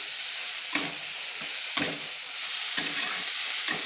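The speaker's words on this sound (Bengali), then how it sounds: "তার আগে আমি দেখুন আমি যে সোয়াবিনগুলো ভেজে রেখেছিলাম তেলের মধ্যে, সেগুলো মশলাতে দিয়ে কষিয়ে নিচ্ছি।" Oil-fried soybeans are stirred and cooked in spice masala for vegetable khichuri, a steady loud sizzle broken by regular scraping strokes of the spatula, about one each second, with no talking.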